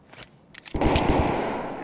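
Heavy weapon fire in the shooter game Escape from Tarkov: a few faint distant shots, then a sudden loud burst of rapid rolling gunfire that lingers and slowly fades.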